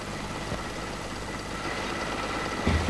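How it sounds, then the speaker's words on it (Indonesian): A conventional carburetted engine idles during a carburetor tune-up. It makes a steady, even mechanical drone at moderate level, with a low thump just before the end and no talking. "selanjutnya pemeriksaan kerja karburator waktu mesin hidup"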